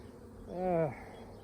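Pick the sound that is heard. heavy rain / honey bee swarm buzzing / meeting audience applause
honey bee swarm buzzing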